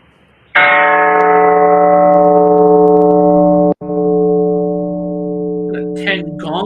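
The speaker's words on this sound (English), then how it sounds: "10 bell salute" During a live show, a large bell or gong is struck loudly and rings with a long, sustained metallic tone. The ring is cut off abruptly, and faint voices are heard near the end.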